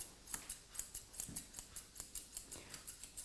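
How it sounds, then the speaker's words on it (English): Grooming scissors cut a Lhasa Apso's coat in a quick steady rhythm of about a dozen crisp snips, close and fairly quiet. "So we're just going to cut straight across."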